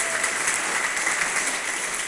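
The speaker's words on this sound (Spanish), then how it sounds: "Dale ese aplauso al Rey." Church congregation claps steadily for a short burst, dense and even, with no voices over it.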